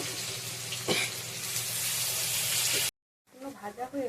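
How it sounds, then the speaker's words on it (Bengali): Chopped onions with bay leaf, dried chili and cumin fry in hot oil as a tempering for mutton curry, a loud steady sizzle that cuts off abruptly before a voice speaks briefly at the end. "ফোড়ন হিসেবে আমরা তেজপাতা, শুকনো লঙ্কা, জিরে, কুচিয়ে রাখা পেঁয়াজগুলো ফ্রাই করে নেব।"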